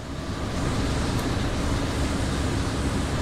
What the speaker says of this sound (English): I reckon it sounds like a train. It sounds like an electric train.